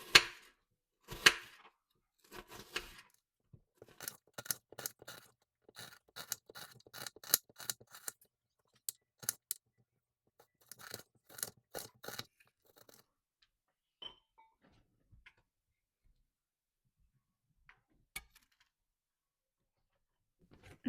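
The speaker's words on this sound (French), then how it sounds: "Je coupe l'oignon en tout petits dés." A knife chops an onion into tiny dice on a board, making rapid, crisp taps in quick bursts with short pauses, close up, then slowing to a few isolated cuts.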